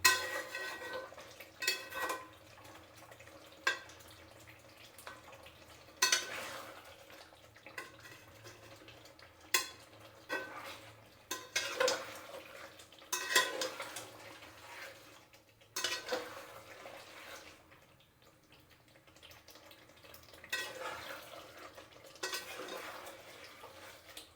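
Champaran mutton is sautéed in a pot, with irregular bursts of spoon scraping and clattering against the metal over a faint, low sizzle. Quiet gaps separate the stirring strokes, and no one speaks.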